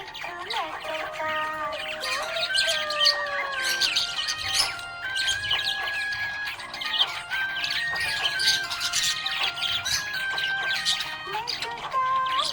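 A budgie chirps happily in a dense, busy run of high tweets and whistled notes, continuous and fairly close throughout.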